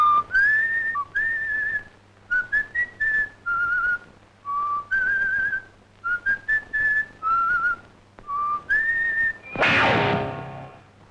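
A person whistles a tune in a bright, clear tone of repeated short phrases, fairly close, followed at the end by a brief burst of broadband noise, in a 1989 Hindi film scene.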